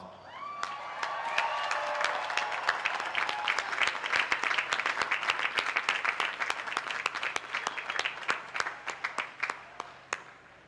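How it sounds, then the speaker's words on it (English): A standing commencement audience at a college of business administration graduation gives a dense round of applause that swells, then thins into scattered individual claps that fade toward the end. "please join me by standing and giving those people a well-deserved round of applause"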